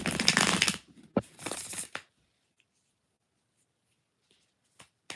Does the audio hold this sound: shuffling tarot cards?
yes